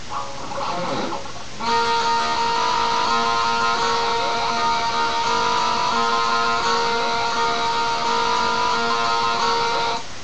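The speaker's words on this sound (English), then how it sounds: "So all together, slowly, it sounds like this." A slow electric guitar riff, played alone at lesson pace, with sustained distorted notes, sliding pitch bends and a steady loud tone throughout after a brief quieter start.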